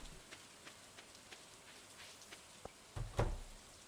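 Rain patters steadily on the metal roof of a trailer in Stardew Valley, a soft, even hiss of drops with a few sharper taps, swelling into a louder burst near the end.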